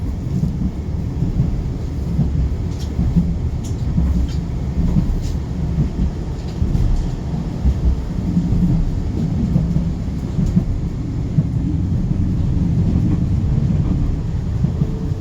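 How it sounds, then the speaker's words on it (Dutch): Dutch tram riding over rails and switches, a loud continuous low rumble of wheels on track with faint rhythmic clacks throughout, close and steady with no talk. "En de tram weer terug."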